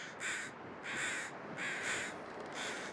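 Harsh, raspy bird calls like seagulls or crows, about four drawn-out cries in a loose steady rhythm, fairly near and clear against a quiet outdoor background with no talking.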